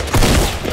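A single heavy shotgun blast in Fortnite: Battle Royale, loud and close with a booming low thump and short decay, standing alone without talk.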